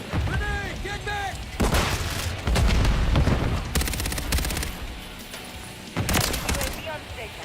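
Video game combat with a grenade explosion and bursts of gunfire, loud booms and rapid shot volleys over a dense battle din, with voices shouting over the action.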